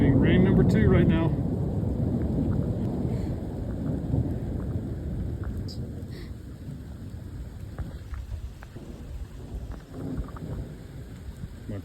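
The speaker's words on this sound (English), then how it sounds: "We are getting rain number 2 right now." A loud rumble of thunder rolls and slowly fades over steady rain in the mountains, with a voice speaking briefly near the start.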